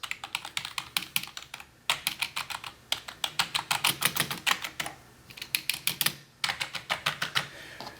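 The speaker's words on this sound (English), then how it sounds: "I'm going to first lightly tap on the keys to see the wobble and just the sound it makes from that" Light, quick taps across the keys of an NPET K10 mechanical-feeling keyboard, a steady close clatter of crisp clicks in short runs with brief pauses, no talking.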